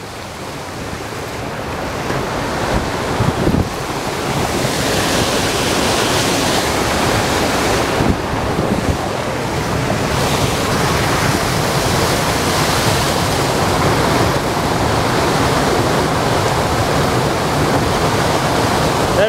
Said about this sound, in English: Show me with a waterfall in the background.